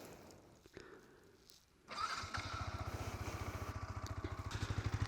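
Yamaha R15S motorcycle engine starting: a faint starter whir, then the engine catches and settles into a steady, pulsing idle, close by with no talking.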